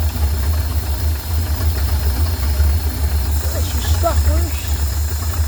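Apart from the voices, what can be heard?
carbureted engine idling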